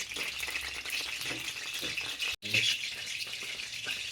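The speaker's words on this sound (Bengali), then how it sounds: "এবার আমি এই যে কড়াই সরষের তেল ঢেলে দিয়ে এবার মাছটাকে আমি ভেজে নেবো" Pomfret fish frying in mustard oil in a wok, giving a steady close hiss and crackle of sizzling that runs throughout, with one brief dropout midway.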